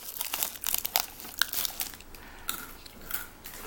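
Sharp, brittle crunches and crinkles come in quick irregular bursts, close up, as crisp Korean Pretz cinnamon pretzel sticks are bitten and chewed.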